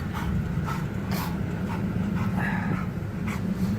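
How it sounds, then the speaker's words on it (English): A dog in the back of a car gives soft whimpers and panting over steady low road and engine rumble inside the moving vehicle, with intermittent higher whines; no talking. "Hear that dog in the back?"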